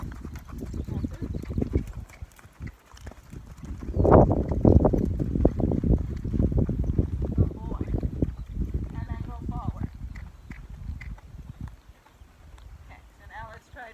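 Gaited horse in training moving into a canter, hooves clip-clopping in a loose rhythm under a rider's talking, with wind noise on the microphone and the hoofbeats swelling louder midway.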